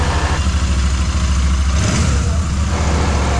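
A Royal Enfield Super Meteor 650 engine running after a tappet repair, with a loud, steady close-up rumble and a slight swell partway through.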